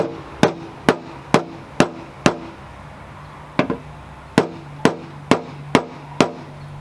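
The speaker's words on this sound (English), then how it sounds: "after a little bit of fender rolling, a little bit of hammer work" Sharp metallic hammer strikes ring out on a VW Passat fender while a dent is worked out, about a dozen loud close blows in an uneven rhythm with a short pause midway.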